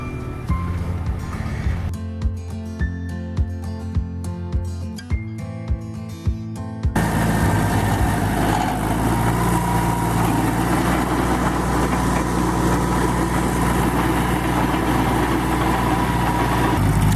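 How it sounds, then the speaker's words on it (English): A tractor fitted with a tiller attachment runs steadily nearby, a continuous loud engine drone and churning rumble that starts after a few seconds of lighter clattering. "We finally got a tiller for the tractor"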